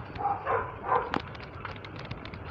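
A dog barks a few times out in a neighborhood street, short yips and woofs at middle distance over steady outdoor background noise, with no one talking.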